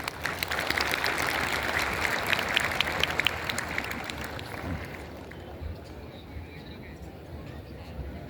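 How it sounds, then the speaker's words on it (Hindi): Audience applause welcoming a speaker at a ceremony: dense, sustained clapping from a crowd that fills the opening seconds, then thins and fades into a softer wash of room noise. "श्रीमान सुरेंद्र कुमार आर्य जी, बहुत बहुत तालियों द्वारा उनका अभिनंदन"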